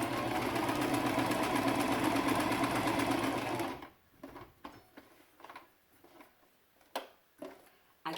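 A sewing machine runs steadily for several seconds with a fast, even mechanical whir, then stops, leaving scattered soft clicks and handling noises.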